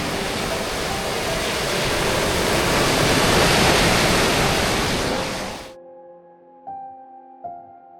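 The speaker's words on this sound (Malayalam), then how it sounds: "വലിയ ഒച്ചയിലും ഫോഴ്സിലും വെള്ളം പുറത്തേക്ക് പോകുന്നതിൻ്റെ ദൃശ്യം ഇവിടെ തൊട്ടടുത്ത് നിന്ന് കാണാം" Water from an opened dam sluice valve roars loudly and forcefully close by, swelling to a peak before cutting off abruptly, followed by a quieter stretch with a few faint tonal knocks.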